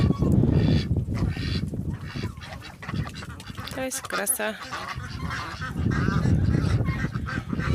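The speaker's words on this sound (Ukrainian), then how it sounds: "Гуси пасуться." Geese honk repeatedly in loud, overlapping calls close by, while a person speaks briefly among them.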